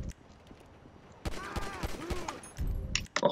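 Gunshots in Grand Theft Auto V, a few sharp separate reports around the middle of the brief stretch with some in-game clatter between, heard clearly at moderate level with no talk over them.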